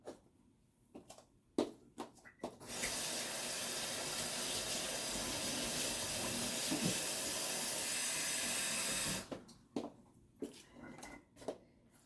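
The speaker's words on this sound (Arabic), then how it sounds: "غندير شويه الماء" Tap water runs steadily into a pot while Moroccan fish is cooked at home. A continuous hissing gush lasts about seven seconds and is framed by sparse kitchen clatter and knocks before and after.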